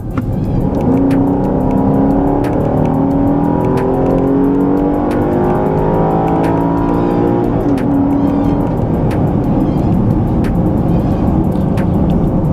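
A 2013 Cadillac SRX or Lexus RX 350 F-Sport engine revs hard and climbs in pitch under full throttle, loud and close, with a brief dip and rise near the end as it keeps pulling.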